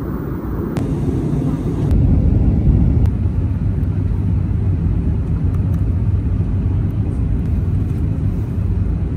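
A loud, constant airplane engine roar dominates from start to finish as a Flyone Armenia flight lands at Ben Gurion Airport, Tel Aviv, a deep steady rumble with occasional faint clicks.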